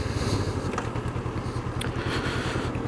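A 2019 Honda CB500F on a road test ride, its parallel-twin engine thrumming steadily and close by with a fast, even pulse, plus light wind and road noise over the top.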